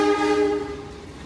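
The Pasundan train's horn sounds as it passes straight through Solo Balapan station: a single sustained, chord-like blast heard fairly close, fading over about a second with faint rail rumble beneath.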